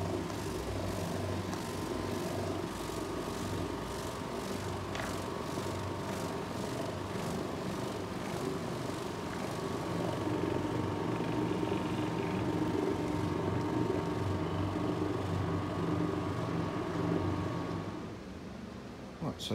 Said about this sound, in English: we're going to buzz over this area with a dry absorbent pad to lift further dirt from the carpet